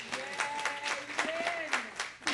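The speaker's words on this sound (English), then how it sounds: "Let's give her a little applause here." A church audience gives a short round of applause during an afternoon Tabernacles gathering, with scattered individual claps over a low murmur, moderately loud and close.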